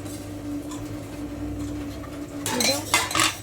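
Vegetables for vegetable pulao, carrots and beans among them, stirred in a pot: a steady low hum gives way near the end to a burst of metal spoon clatter and scraping against the pot.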